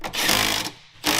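An impact-style power tool tightens the bracket bolts on a truck bumper: a short, loud buzzing burst, a brief pause, then a second burst starting up, close by.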